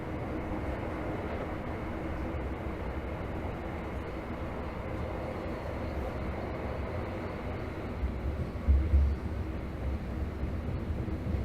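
A Tokyo Metro Hibiya Line 13000 series train runs steadily, heard from inside as a low, continuous rumble and hum of wheels and motors, with a brief louder clatter near the end.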